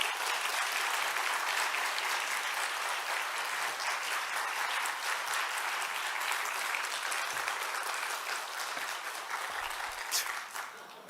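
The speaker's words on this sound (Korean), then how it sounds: "우리 목사님 나오실 때 박수로 맞이하도록 하겠습니다." A church congregation at a Korean-language Wednesday service gives a sustained, loud round of applause welcoming the pastor to the front, steady throughout and tapering slightly at the end.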